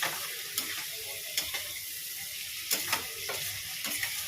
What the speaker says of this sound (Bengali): ভালো করে কষাবো।